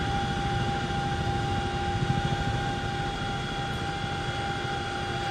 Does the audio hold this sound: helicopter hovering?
yes